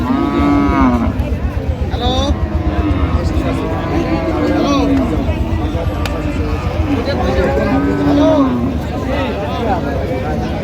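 Cows at a cattle market moo repeatedly, several long, deep calls spread across the stretch, over constant crowd chatter and people talking nearby, with a loud, busy background.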